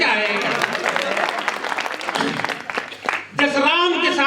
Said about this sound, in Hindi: ताली बजाओ यार, ऐसे क्या है?